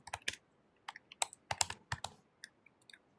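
Code being typed on a computer keyboard: rapid irregular bursts of sharp key clicks, close and fairly quiet, with short pauses between clusters and no talking.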